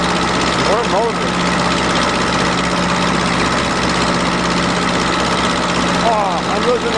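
A farm tractor engine runs steadily while driving back to the farm, a constant loud low drone with a faint mechanical whine riding over it.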